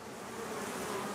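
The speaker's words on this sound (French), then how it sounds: "une abeille qui rentre ici" A small bee flies into its nest hole among many tiny nest holes, giving a faint, brief, steady buzz with no voices.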